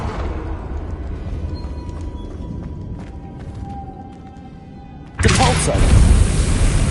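A Confringo explosive spell in the video game Hogwarts Legacy detonates with a sudden loud broadband blast. The blast comes after a stretch of rumbling game ambience, and a dense roar follows it and carries on to the end.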